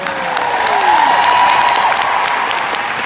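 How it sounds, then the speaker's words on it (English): A large audience applauds in a stadium, a dense, even roar of clapping from many hands that stays loud and steady, with a faint whistle-like tone gliding through it. "Give me a round of applause if you know what you need to do"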